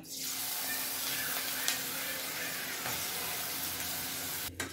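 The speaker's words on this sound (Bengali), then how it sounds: "আলুগুলো থেকে বেশ কি সুন্দর আওয়াজ হচ্ছে, কড়মড় কড়মড় করে, মানে আলুগুলো ভাজা হয়ে গেছে" Potatoes deep-frying in a pan of hot oil, a steady close, dense sizzle and crackle running throughout with a few sharper pops and no talk.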